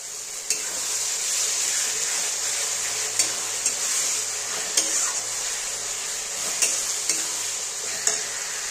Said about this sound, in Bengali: এবারে সামান্য একটু জল দিয়ে কষাবো আমি।